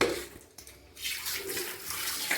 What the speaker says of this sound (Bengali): মাংসটা জলে ভালো করে ধুয়ে নিই, দিয়ে তারপর রান্না করব।